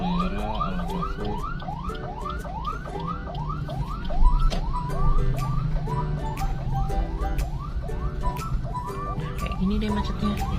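A wailing ambulance siren cycles repeatedly over the rumble of jammed rush-hour traffic in a Tangerang industrial area, with engine noise and occasional horn-like tones underneath.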